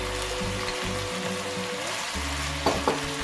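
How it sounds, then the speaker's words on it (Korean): Pork with mushrooms and green onion stir-fries in a pan in a continuous close, loud sizzle, with faint scraping of stirring and two brief clacks of a utensil near the end. "그래서 버섯을 넣고 볶아줄게요"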